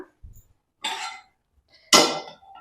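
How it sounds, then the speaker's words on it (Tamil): A metal kadai is set down with a clunk, followed by a louder scraping clatter of the pan against a stove grate, with a short pause between. "இப்ப ரசம் செய்ய நம்ம அடுப்பு ஆன் பண்ணி கடாய் வச்சுக்கலாம்."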